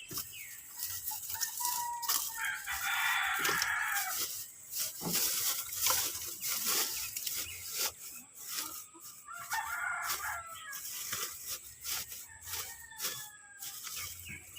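Rhode Island Red chickens clucking around an egg-laying area while a rooster crows loudly twice, the calls close and clear over a noisy farmyard background with scattered pecking and rustling, no talking.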